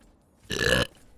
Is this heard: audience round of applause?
no